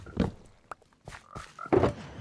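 Frogs croak in Minecraft, several short, distinct croaks spread across a couple of seconds, fairly close and alone.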